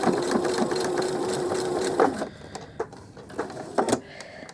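A sewing machine back-stitching on fabric, a steady close mechanical whir for about two seconds that stops abruptly, followed by a few quiet clicks and fabric handling sounds.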